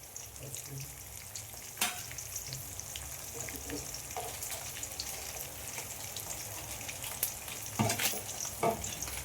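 Asafoetida powder and curry leaves are stirred in hot oil over a low flame, giving a steady sizzle with a few sharp utensil scrapes against the pan.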